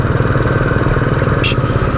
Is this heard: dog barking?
no